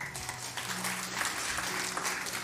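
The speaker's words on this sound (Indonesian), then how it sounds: "Beri tepuk tangan." Applause from a congregation during a church service, steady clapping throughout with a faint voice or music underneath, moderately distant.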